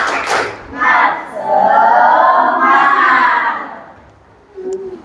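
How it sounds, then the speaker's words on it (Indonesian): Schoolchildren in a classroom religious-education lesson perform the tepuk semangat clapping chant, shouting loudly in unison with claps and thumps, the group voices swelling and holding before tapering off. "Kita tepuk semangat dulu ya"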